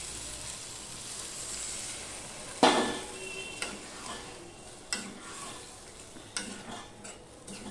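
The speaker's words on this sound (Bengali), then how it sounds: "এবার এই অবস্থায় আমি জল দিয়ে দেব।" Water is poured into a pan of frying prawns with pointed gourd, causing a sudden sizzle burst followed by softer crackling and a few light clinks of a utensil against the pan, close and quiet.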